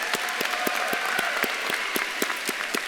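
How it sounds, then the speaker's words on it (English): Crowd applause at the VCU School of Social Work commencement, a full continuous roar of clapping with a few louder claps standing out in a loose rhythm nearby. "Let's give one more round of applause for your family and loved ones"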